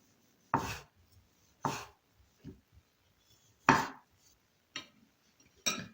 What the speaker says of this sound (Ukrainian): Тепер нарізаємо помідорки.